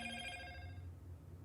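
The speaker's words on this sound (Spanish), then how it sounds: "Disculpen por el ruido, vamos a poner el teléfono en silencio." A telephone rings with bright, repeated electronic bell tones that start loud and fade after about half a second, leaving a low hum; no one speaks.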